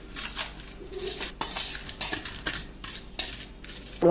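Spices for a masala chana dal filling are mixed in a bowl, a spoon clinking and scraping repeatedly against the sides in a steady close rhythm, with no voices.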